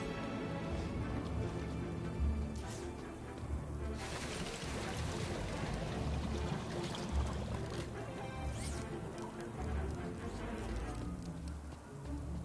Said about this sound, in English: Water refill complete.